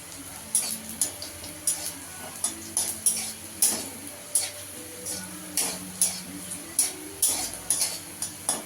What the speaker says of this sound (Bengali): রসুনটাকেও একটু লাল লাল করে ভেজে নিতে হবে।